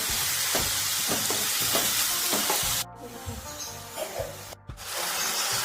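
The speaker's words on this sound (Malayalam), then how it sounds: "ഇനി കുറച്ച് ഉപ്പും കൂടി ഇട്ട് കൊടുത്തിട്ട് നമുക്ക് വാട്ടിയെടുക്കാം കേട്ടോ. നന്നായിട്ടൊന്ന് ഇളക്കി കൊടുക്കട്ടോ." Potato or onion slices sautéed with salt in a pan while being stirred make a close frying hiss with rhythmic scraping strokes, briefly dropping out twice before the sizzle returns; no one speaks.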